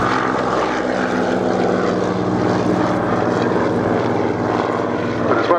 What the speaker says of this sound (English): Admiral George Anson, originally developed for maritime reconnaissance, hence its presence here today.